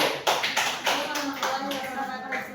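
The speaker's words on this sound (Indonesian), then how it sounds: "Silakan tepuk tangan dulu untuk kelompok 1" Classroom audience applauding a student presentation group, a dense patter of hand claps lasting the whole stretch, fairly close and steady, with murmured voices underneath.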